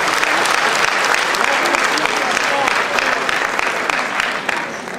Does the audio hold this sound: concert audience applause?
yes